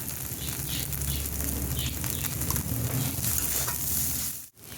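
Flattened rice with vegetables, sugar and a pinch of salt being stirred in a pan, a steady close scraping and soft sizzle running unbroken until a brief drop right at the end.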